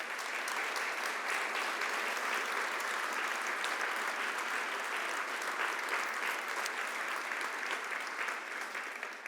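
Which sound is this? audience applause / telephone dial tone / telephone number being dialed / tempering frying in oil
audience applause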